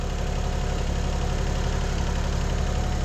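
Tractor engine idling nearby at a pasture fence job, a steady loud low rumble with a constant mechanical knock and no change in pitch.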